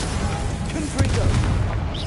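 A Confringo blasting spell cast in a Harry Potter video game, a burst of booming impacts and crackling blasts under a voice calling out, moderately loud and short.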